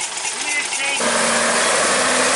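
A tractor engine idles with a low, steady hum that grows fuller after the first second, with voices heard faintly around it.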